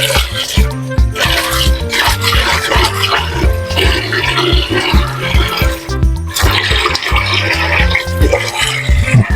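Carrots are rinsed under a running kitchen tap while making fresh lumpia, with loud steady gushing water broken by rhythmic splashing and handling sounds close up.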